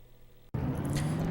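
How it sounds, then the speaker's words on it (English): Truck engines in a racing video game fire up together after a brief lull, settling into a loud, steady idle drone with a sustained tone through the rest of the moment. "Drivers, start your engines!"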